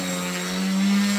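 An electric rotor motor on a differential-thrust craft spooling up as the throttle increases, a steady rising whine with a strong tonal hum, close and continuous with no talking.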